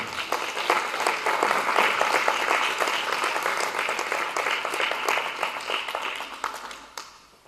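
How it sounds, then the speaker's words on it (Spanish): Worshippers in a church applaud strongly for about seven seconds, a dense wash of clapping that fades out at the end. "Dale palmas fuerte al Señor."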